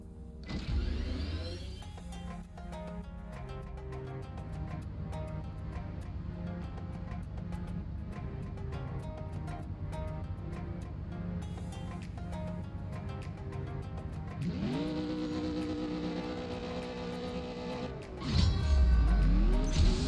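Supercar engine in a CSR Racing 2 test run, a steady electronic-sounding engine drone with rapid gear-shift ticks that climbs to a higher pitch near the end, with game music or effects continuous throughout.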